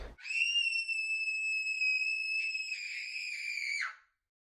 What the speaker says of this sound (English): I hear my kids screaming.